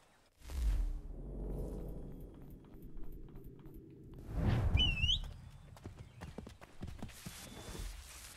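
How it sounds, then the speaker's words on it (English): In Assassin's Creed 3, a horse's hooves clip-clop in quick rhythmic runs of galloping, faint against game ambience, with a brief whooshing sound and a whinny-like cry midway. "Let's go, horse. Let us fly away fast."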